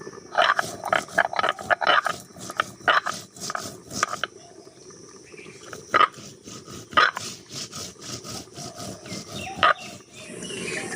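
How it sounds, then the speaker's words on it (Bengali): Cumin seeds ground on a grinding stone, giving near, rough, growling scrapes in repeated back-and-forth strokes with brief pauses between bursts. "জিরেটা বেটে নেব।"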